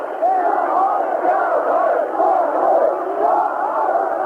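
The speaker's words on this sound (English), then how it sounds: "there are hundreds of people on bicycles shouting, "Li Peng must go, Li Peng must step down."" Hundreds of protesters on bicycles in the Beijing streets near Tiananmen Square, shouting slogans together in a loud, continuous rhythmic chant from a dense crowd.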